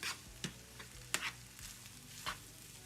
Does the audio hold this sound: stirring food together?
yes